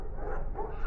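A dog in the video game Psycho Pomp gives a single short, muffled bark-like woof, close and fairly loud, with no talk over it.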